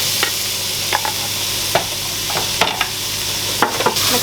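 Onions and green chilies sizzle in hot desi ghee, a steady close crackle broken by scattered scrapes and clacks of a stirring utensil, with no voices.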